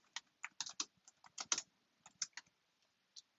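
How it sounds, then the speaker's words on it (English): Quick bursts of keystrokes on a computer keyboard, close and crisp, tapped in an uneven rhythm of clusters and short pauses, about twenty clicks with no talking. "I can just start typing. And I'm going to type The Wizard of Oz."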